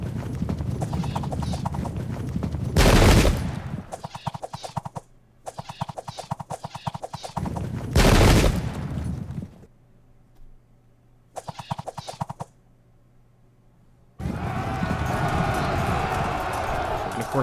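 Cavalry horses charge in the Pike and Shot battle game, the Holy Roman Empire against the Ottomans at Slankamen 1691, with loud, dense hoofbeats and clashing that stop and resume several times between brief quiet gaps.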